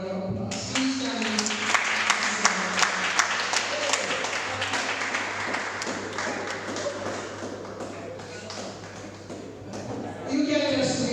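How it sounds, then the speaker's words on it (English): Audience applause for an honoured 90-year-old guest at a poetry and storytelling festival, steady mid-level clapping with crowd voices and a few louder claps mixed in, ending as the applause dies away. "I just want you to acknowledge her by just giving her a round of applause."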